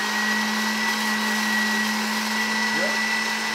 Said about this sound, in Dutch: de noten zet ik in de blender